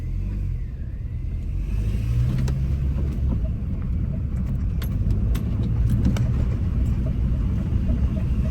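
A Mini Cooper S drives along steadily, with a constant low road rumble and engine hum, light rattles and a few faint clicks inside the cabin.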